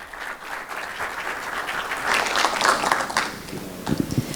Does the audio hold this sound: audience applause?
yes